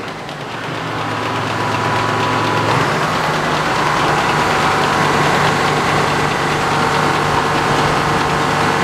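Engine of a Frick top saw sawmill running steadily at quick revs, a loud close drone that climbs slightly in the first couple of seconds and then holds an even, continuous note with no voices.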